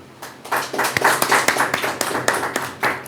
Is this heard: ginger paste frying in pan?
no